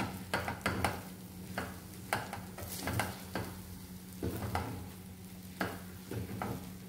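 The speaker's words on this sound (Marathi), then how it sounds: "हा गूळ आपण छानपैकी ह्यामध्ये मिक्स करून घेऊया" A spoon works jaggery into lapsi in a pan, giving repeated scraping, knocking strokes at an uneven rhythm over a soft sizzle. The sounds are close but fairly quiet, and no one talks.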